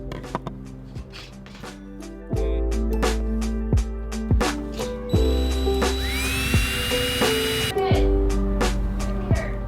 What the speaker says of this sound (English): I'm gonna drill my holes right there